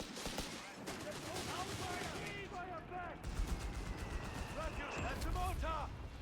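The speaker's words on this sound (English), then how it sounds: "That's a mortar. Grab cover." Mortar fire and scattered gunfire rumble through a Company of Heroes 3 battle, with a steady bed of distant explosions and small-arms shots under constant voices and game chatter.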